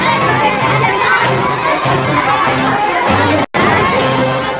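A crowd shouts and yells in a street at midnight near a mosque in Alirajpur, with women protesting atop a police van; the dense, loud noise of many agitated voices carries on throughout, broken once by a brief cut.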